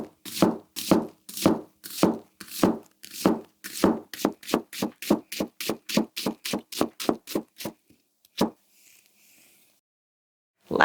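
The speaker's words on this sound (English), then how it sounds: "Vertical cuts, lateral cuts to test thinness behind the edge and drag, and voila, a very easily diced red onion" Crisp, evenly spaced chops of a Takayuki Shibata Chromax nakiri knife dicing a red onion on a cutting board, about two dozen close knocks that quicken toward the end before stopping, with no talk.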